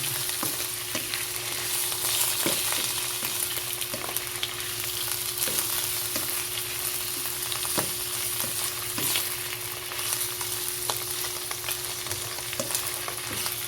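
Chicken and mushroom stir fry bubbling and sizzling in a pan, with a steady hiss and regular soft knocks of a utensil stirring, close and without voices.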